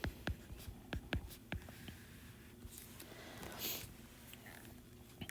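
Pen or pencil scratching on paper while working out a chemistry problem, a run of quick strokes and taps near the mic, fairly quiet, with no talking.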